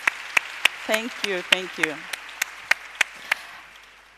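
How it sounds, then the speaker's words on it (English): About a dozen sharp, evenly spaced claps ring out at a slow, steady pace during a panel discussion, with a brief spoken thanks partway through. "Another round of applause."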